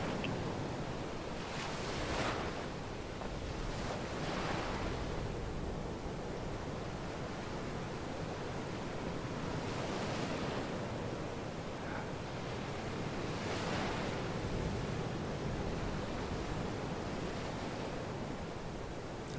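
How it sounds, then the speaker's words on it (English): Ocean waves roll onto a sandy beach in slow, repeated swells, each a soft rushing surge rising and fading over a constant background wash, distant and calm. "the waves slowly crashing"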